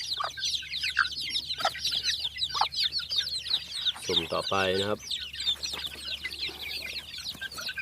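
Fighting-cock and Mongolian black chicks crowded in a pen, chirping in a busy, continuous high chatter, with someone speaking briefly in the middle.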